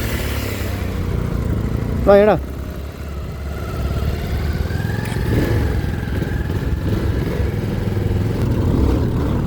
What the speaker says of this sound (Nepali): अब फेरि बाइकमा चढ्यौँ भन्छु ल